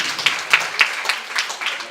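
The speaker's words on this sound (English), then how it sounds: "Give yourself a big round of applause for being here." Audience clapping at a property event, a thin scatter of hand claps rather than a full ovation, fairly quiet and brief.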